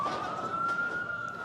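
Ambulance siren in a war zone in Gaza, a steady high wailing tone holding level at moderate distance over rumbling street noise, no voices.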